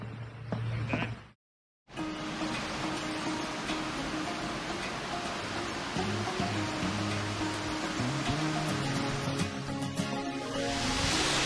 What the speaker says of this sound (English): We heard the sound of a waterfall